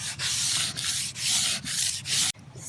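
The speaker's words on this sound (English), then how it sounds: "So I've sanded all 3 pieces" Sandpaper scrubs back and forth over a chalk-painted small wooden shelf in steady, loud strokes, about five rasping passes broken by short pauses, with no voices.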